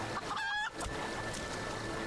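A rooster in Final Fantasy 14 crows once, a short bright call near the start that fades within a second, followed by a low steady background hum.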